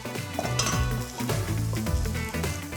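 Egg fried rice seasoned with dark soy being stir-fried in a hot pan, steady sizzling mixed with clinks and scrapes of a utensil against metal, close and loud with no talking.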